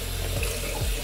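Tap water runs steadily into a sink while a betta fish container is washed, a continuous close splashing stream with no talk.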